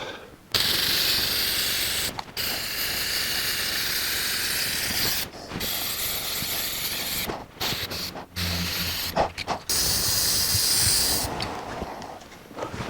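A spray gun lays clear coat on a 1984 Jeep CJ7 engine in long, steady hissing passes, close and loud, broken by short gaps between strokes.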